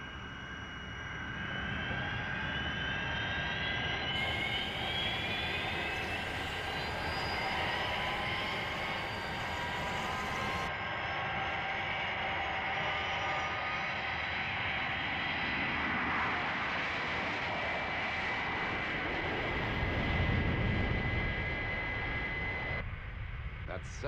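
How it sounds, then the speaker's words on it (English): The Fireflash airliner from the Thunderbirds puppet series takes off: a steady, loud jet roar with whining tones rises and holds for the full length, with voices heard over it. "That's certainly some aircraft."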